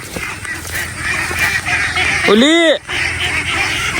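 Ducks on a duck farm feeding on azolla and small fish: steady low chatter from the flock, then one loud, close, drawn-out honking quack near the middle, with a voice speaking faintly underneath.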